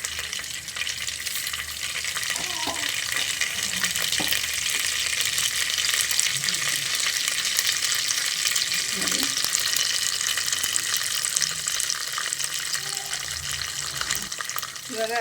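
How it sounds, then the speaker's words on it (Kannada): Mustard seeds fry in about two spoons of hot oil for a tempering, a dense continuous sizzle with faint crackles and occasional spoon knocks, steady and close throughout. "ಸಾಸಿವೆ ಹಾಕೋತಾ ಇದ್ದೀನಿ"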